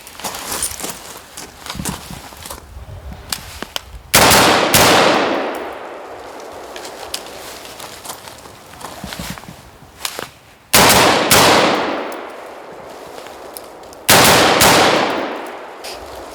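Rifle shooting drills run until the ammunition is gone, with rapid strings of loud, sharp gunshots in close bursts alternating with single shots, several long reverberant booms trailing off outdoors, and no talking.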